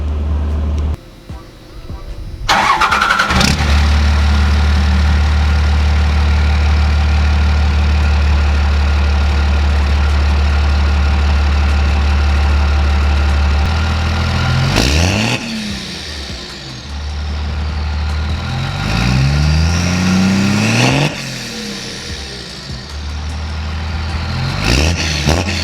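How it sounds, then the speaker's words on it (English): A 1997 second-generation Dodge Cummins 12V diesel truck with a straight-pipe exhaust idles with a deep, rumbling exhaust, then revs up sharply three times, each rise and fall clearly audible up close. "I think that's going to be not only plenty loud enough, but also a very good sounding exhaust."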